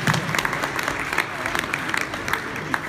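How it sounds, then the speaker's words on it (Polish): A conference audience at a mobile trends event in Poland claps for a speaker coming on stage, with scattered applause and some crowd murmur throughout. "Wielkie brawa"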